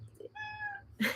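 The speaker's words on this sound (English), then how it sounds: "Oops, sorry, that's my cat." A cat gives a single clear, drawn-out meow close to the microphone indoors, followed by a short noise.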